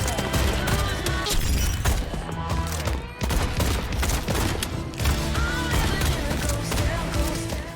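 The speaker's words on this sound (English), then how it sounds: "firing squads that your twin shotguns make incredibly quick work of" Rapid bursts of shotgun gunfire from the rhythm shooter game Pistol Whip, dense and continuous, blended with loud driving music and impact effects throughout.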